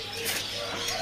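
Birds at a bird seller's kiosk stocking sea teledekan birds give soft cooing and chirping calls, steady and fairly close, over faint background murmur.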